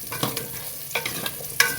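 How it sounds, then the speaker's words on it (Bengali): Small whole onions fry in a pan, heard as a brief, quiet sizzle broken by a few soft stirring scrapes and clicks. "পেঁয়াজগুলো ভাজি হয়ে গেছে"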